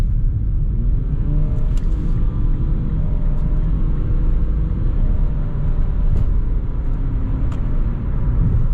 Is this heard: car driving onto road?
yes